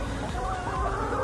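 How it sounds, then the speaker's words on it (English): Chickens cluck nearby in a short, busy burst of low clucks amid a dense background. "chickens are running around my feet"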